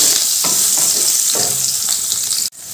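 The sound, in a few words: potatoes frying and being stirred in oil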